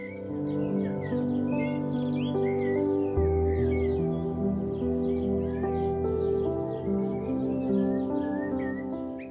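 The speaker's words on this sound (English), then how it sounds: "cloud forest that muffles sound and amplifies bird calls" Scattered bird chirps and calls in a cloud forest flicker over a droning musical background of layered sustained tones, the birds light and fairly distant.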